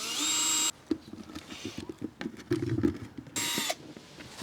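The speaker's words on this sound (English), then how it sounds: "I'm gonna use a slightly thinner drill bit" Power drill with a drill bit boring holes through a plant pot outdoors on a windy day, giving two loud high whining bursts at the start and near the end, with clattering handling noise and wind buffeting between.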